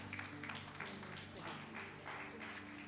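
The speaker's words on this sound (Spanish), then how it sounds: "Dele un aplauso al Señor así." A church congregation claps in a steady rhythmic beat, with several strong pulses over a few seconds, mixed with crowd noise and a sustained musical background.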